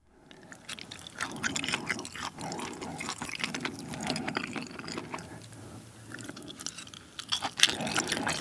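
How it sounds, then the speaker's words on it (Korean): Close, wet chewing and squelching of beef intestines in carbonara pasta, with soft crunches and smacking bites continuing steadily throughout, no talking. "곱창 까르보나라를 먹어보도록 하겠습니다"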